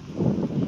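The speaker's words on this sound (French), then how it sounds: "Il y a un peu de vent, je me pèle, c'est horrible." Wind gusting outdoors at night, a low steady rumble buffeting close against the microphone, brief and alone.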